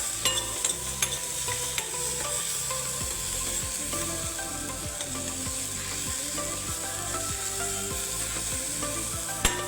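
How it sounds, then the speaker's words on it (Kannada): Onions fry in a pan for gobi aloo palya, giving a steady close sizzle with rhythmic scraping and stirring strokes throughout and no talk. "ಇದು ಈರುಳ್ಳಿ ಚೆನ್ನಾಗಿ ಫ್ರೈ ಆಗಬೇಕು"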